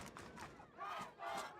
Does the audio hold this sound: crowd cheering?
yes